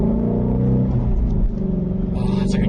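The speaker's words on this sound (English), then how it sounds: "Ford actually has trademarked their V8 tone, the exhaust tone, like the noise" The V8 exhaust of a Ford GT350 rumbles loudly and close, with a deep steady drone that swells as the engine revs before settling.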